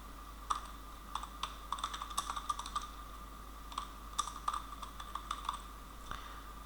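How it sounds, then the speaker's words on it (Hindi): Steady typing on a computer keyboard while working in Adobe InDesign, a close run of light key clicks in short bursts with brief pauses, over a faint constant hum and no talking. "इसमें मैं अगर कोई और हेडिंग टाइप"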